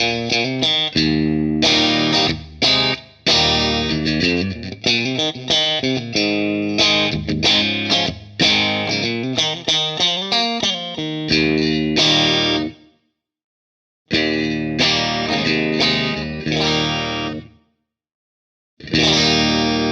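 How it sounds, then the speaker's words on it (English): An electric guitar plays chords and phrases through a Shnobel Tone Boost pedal pushing the amp's front end, a mildly driven, boosted tone, loud and close, with short pauses between passages. "boosting just a little bit without introducing too much distortion hitting the front end of the amp."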